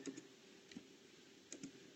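Computer keyboard keys tapped in a few quick, faint clicks spaced apart, heard close over a steady low room hum with no voices.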